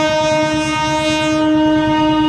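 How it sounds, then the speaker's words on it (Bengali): A freight train passes close by at a level crossing, its horn blaring in a loud, sustained chord over the steady rhythmic rumble and clatter of the wagons. "মালগাড়ি যাচ্ছে।"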